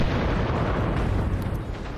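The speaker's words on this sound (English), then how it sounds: "look at the size of the explosion on that." A massive C4 blast in Arma Reforger gives a sustained, loud, broadband rumble that fills the whole moment without any voices.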